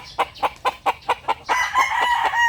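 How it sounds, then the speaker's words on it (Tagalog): A lemon yellow legged hatch rooster crows close by, opening with a run of short, evenly spaced clucking bursts that roll into a loud, drawn-out crow. "Ngayon siya nag-ingay. Isa siyang lemon yellow legged hatch."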